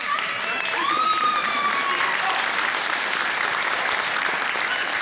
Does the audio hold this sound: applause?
yes